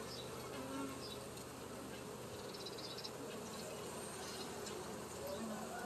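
A dense, steady buzzing of many honeybees being installed into a new hive fills the air throughout, with faint voices and movement underneath.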